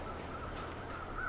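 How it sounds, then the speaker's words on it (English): In the survival game The Long Dark, crows caw faintly in the distance, a few soft spaced calls over quiet ambient wind. "Just a bunch of annoying crows."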